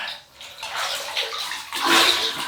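Water splashing and running as a face is rinsed mid-shave with a double-edge safety razor and Stirling soap, a close, steady wet rush that swells louder near the end.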